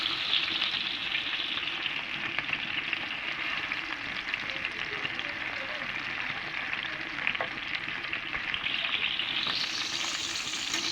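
Fish bones fry in a pan with a steady, close, crackling sizzle that continues evenly throughout.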